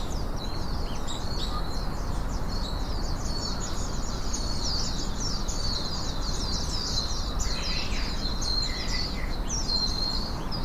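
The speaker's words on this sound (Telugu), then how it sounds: "బర్డ్స్ కూడా చాలా తిరుగుతున్నాయండి. చాలా సౌండ్స్" A dense, continuous chorus of bird chirps and trills rings out at an English beach, fairly clear over a constant low background hiss, with no one speaking.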